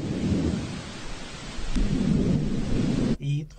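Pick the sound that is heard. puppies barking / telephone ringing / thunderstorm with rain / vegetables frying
thunderstorm with rain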